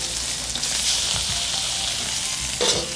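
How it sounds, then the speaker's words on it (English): Short ribs searing in hot oil in a pan, a loud continuous close sizzle with a few brief surges and no talk. "now just gonna give these short ribs a quick sear"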